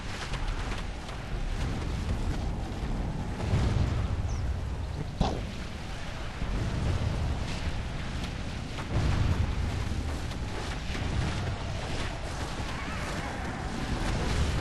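Artillery cannons boom across a Medieval 2 Call of Warhammer battlefield, a long continuous roar of overlapping blasts with a few sharper cracks standing out and surges of heavier rumble throughout.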